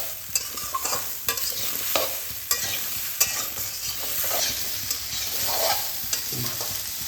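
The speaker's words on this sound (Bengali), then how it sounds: "এই যে সবজিটা ভাজা ভাজা হচ্ছে।" Mixed vegetables fry in spiced oil in a pan, giving a steady crackling sizzle broken by frequent sharp clicks and scrapes from stirring, close up and with no talking.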